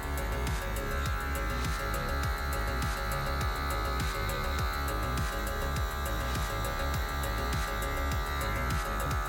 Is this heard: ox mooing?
no